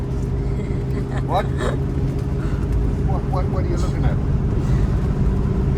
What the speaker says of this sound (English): I'm driving. I don't know if you can get the camera over here, just to show you that I'm driving at 90.